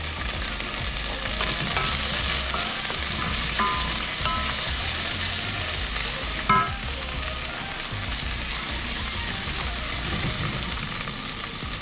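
Onion and scallion fry in a pan for a vegan quinoa and Thai red curry chickpea dish, giving a steady, close sizzle that holds even throughout, with a faint clink near the middle and no voices.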